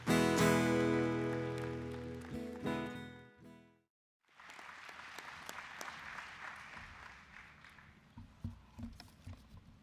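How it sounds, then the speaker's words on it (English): At a university graduation ceremony for the Faculty of Science, Medicine and Health, an audience breaks into applause after music ends abruptly and a brief silence falls, with steady clapping from a fairly distant crowd. "give yourself a big round of applause"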